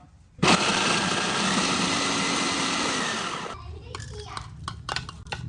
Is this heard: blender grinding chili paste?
yes